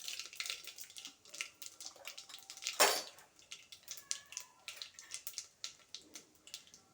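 Mustard seeds, cumin and urad dal tempering in hot oil in a pan, a faint, close crackle of tiny pops and sputters, with one sharper hiss partway through.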